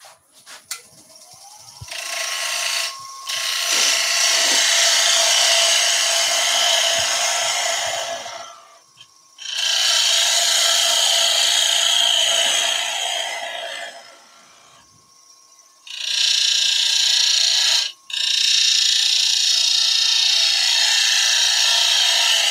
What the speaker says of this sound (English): let's go back in with that bowl gouge again